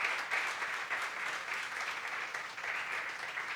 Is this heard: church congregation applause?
yes